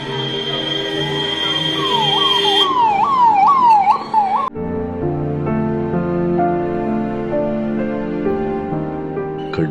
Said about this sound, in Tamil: ஆம்புலன்ஸ்கள் கரூர் அரசு மருத்துவமனையை நோக்கி குவிய தொடங்கின